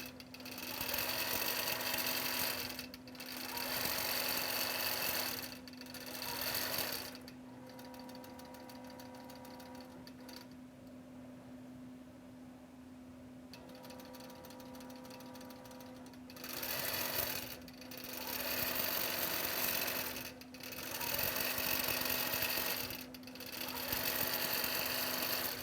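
Embroidery machine stitching the squares of a game board, its loud rhythmic needle clatter running in bursts with brief pauses where a quieter hum continues between sections.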